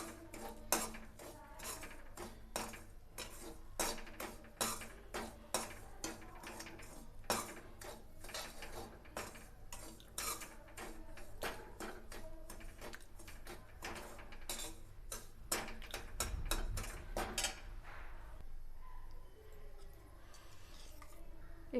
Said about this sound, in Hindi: इसको अच्छे से मिक्स कर देंगे और धीमी आंच में इसको भून लेंगे।